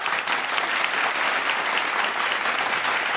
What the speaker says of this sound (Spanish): Un aplauso a eso.